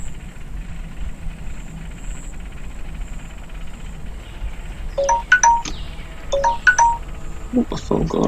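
A mobile phone rings with a few short electronic tone chimes, fairly near, over a steady hiss of background ambience and murmur while queuing for the Wicker Man ride at Alton Towers.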